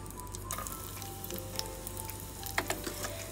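Sliced medium onions frying in hot oil, a steady soft sizzle with light crackles and a few sharper pops near the end, fairly close and with no talk.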